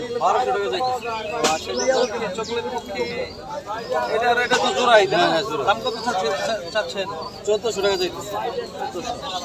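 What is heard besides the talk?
pigeons in cages at a market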